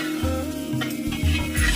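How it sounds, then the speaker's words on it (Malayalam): Plantain being sautéed in a pan for apple-banana payasam, a soft sizzle broken by repeated rhythmic scraping strokes of a spoon against the pan, close and without voices. "നേന്ത്രപ്പഴം കൂടി ഇതിലേക്ക് ചേർത്ത് കൊടുക്കാം. ഇനി ഇതും കൂടി നന്നായിട്ടൊന്ന് വഴറ്റിയെടുക്കണം."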